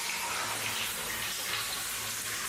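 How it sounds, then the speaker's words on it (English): Water dripping and trickling inside an old mine tunnel forms a continuous hissing wash of water, fairly close and steady, with no voices. "There's water dripping"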